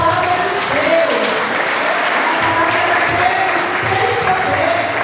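Applause from a church congregation during a Sunday worship service, a steady dense wash of clapping that holds for about five seconds, with some voices mixed in among the hands.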